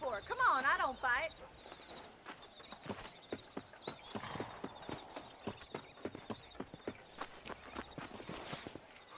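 Horse hooves clip-clop steadily at a walking pace in the Red Dead Redemption western video game, close and fairly loud, with voices talking over the start and soft background ambience.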